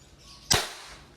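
A Crosman MagFire Ultra multi-shot break barrel air rifle fires a single sharp, close crack that fades quickly into a quiet room.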